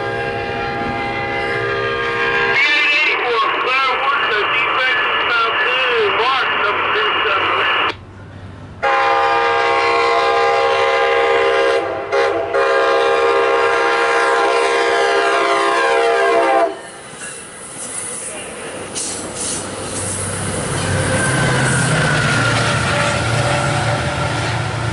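A MARC commuter train, P884, passes close by, sounding long loud horn blasts before its cars roll past in a steady rumbling clatter.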